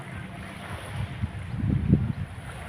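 Sea waves washing under strong northeast monsoon wind on a coast at Christmas time, a steady low roar with gusty swells building louder toward the end, no voices.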